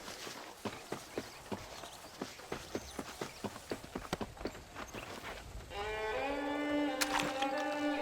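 Horse hooves clip-clop at a steady walking pace in the Red Dead Redemption video game, about a dozen evenly spaced clear hoofbeats that give way to a sustained tonal music or ambient swell.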